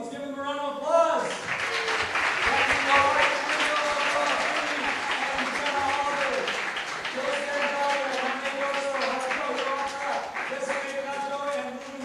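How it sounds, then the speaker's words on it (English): A crowd claps for a hospitality team in a long, steady round of applause, with voices talking and calling out loudly over it throughout. "Our hospitality team, let's give them a round of applause."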